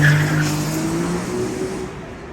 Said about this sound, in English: The entire Ferrari lineup is coming through.